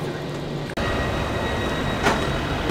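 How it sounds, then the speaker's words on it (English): Inside a train in Sweden, a steady low rumble of rolling wheels and carriage noise fills the space, with a brief hiss partway through and no talking. "So now I'm on the train here."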